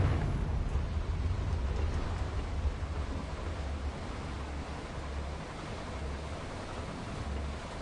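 A Confringo blasting spell goes off in the video game Hogwarts Legacy, giving a loud, dense roar of rumbling noise that holds steady for several seconds, with a heavy low-end rumble throughout.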